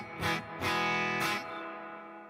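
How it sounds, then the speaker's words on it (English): Electric surf guitar with reverb set at about 5, three strummed chords in quick succession, each leaving a moderate ringing tail that fades gradually, heard alone without talk. "I got the reverb at about 5."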